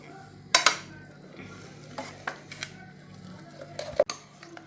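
Boiled potatoes being mashed completely smooth in a pot for cutlets, with scattered metal clinks and knocks against the pot between softer scraping and squishing sounds, irregular and close.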